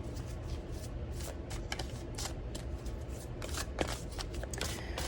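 A Shaman's Dream tarot deck is shuffled by hand, a steady run of soft papery riffles and card slaps close to the ear, with no talk over it.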